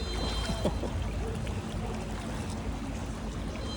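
Steady rushing water of a river flowing through Zurich, Switzerland, continuous and fairly loud, with a faint brief sound near the start and no talking.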